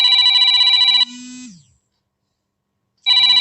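Telephone ringing loudly and close, a bright electronic ring burst followed by a short lower tone, a pause of silence, then the ring starting again, with no talking.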